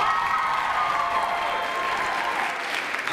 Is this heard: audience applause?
yes